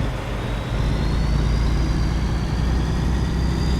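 A Peterbilt truck hauling cattle in American Truck Simulator, its engine droning steadily and loudly with a constant low rumble and faint whine throughout.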